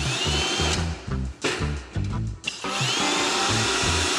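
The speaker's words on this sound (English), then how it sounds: "I'm gonna just drill a small pilot hole" A power drill bores a small pilot hole for non-self-drilling screws while framing a fireplace hearth in a modern farmhouse build: a loud, close, steady motor whine that dips briefly several times midway before running on.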